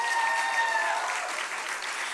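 Audience applause at an awards ceremony, a steady dense patter of many hands clapping throughout, with faint tonal feedback early on and no talking.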